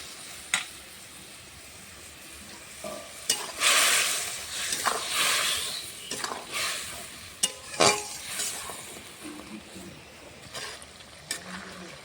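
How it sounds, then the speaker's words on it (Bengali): Small fish simmering in karamcha curry, a quiet bubbling bed broken by intermittent stirring scrapes and clanks of a spoon against the pot, no talking. "মাছটা দিয়ে ভালো করে ফুটিয়ে নেবো"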